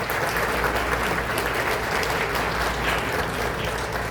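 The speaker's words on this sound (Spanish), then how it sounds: "Un fuerte aplauso para nuestro panel" An audience claps steadily for a panel at a Conecta Perú event, a dense, even wash of applause filling the room at close range for the whole stretch with no speech over it.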